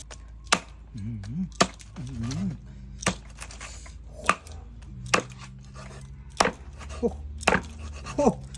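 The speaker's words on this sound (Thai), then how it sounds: "จากนั้นเอามาหั่นเลยฮะ" A knife chops through crispy oven-roasted pork belly on a cutting board in sharp, irregular strikes, about a dozen over several seconds. Someone makes short vocal sounds between the cuts.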